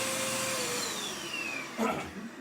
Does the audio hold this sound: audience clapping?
no